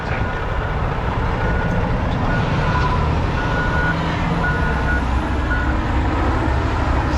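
Residential garbage trucks work at a dump. Steady diesel engine rumble and machinery noise fill the scene, and a truck's reversing beeps repeat in regular pulses, moderately close, with no talking.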